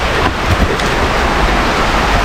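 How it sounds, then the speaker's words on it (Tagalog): Heavy rain pouring at night in a cemetery, a loud, dense, continuous hiss and roar with no pauses and no voices. "Lumakas pa naman yung ulan."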